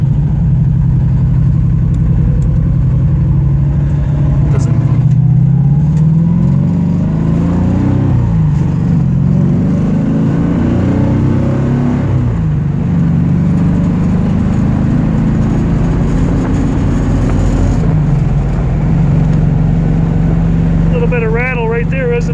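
A 1967 Mustang's fuel-injected aluminum 427 V8 runs steadily near 1700 RPM with a slight rattle, a continuous low rumble that swells slightly as it revs, while people talk in the background.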